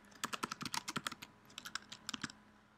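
Rapid typing on a computer keyboard, bursts of crisp close keystrokes in quick runs with a short pause midway, no talking.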